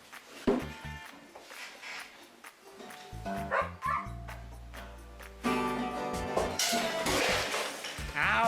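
A small dog barks and yips several times in short bursts, fairly close, with some clattering and other background sounds in between.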